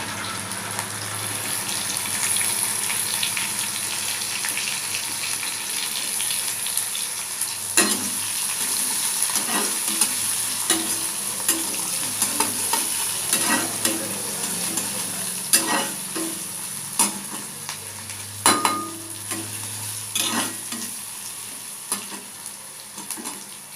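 Onions frying in oil in a pan for a tomato pakora dish, a continuous close sizzle broken by repeated scraping clicks of a spatula stirring, with no talking.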